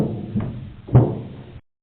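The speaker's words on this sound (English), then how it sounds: "When you hear the first vent bang" A Balloon Boy vent bang from the video game Five Nights at Freddy's 2: a soft knock followed by a single heavier hollow metallic thud that quickly decays, heard alone and up close.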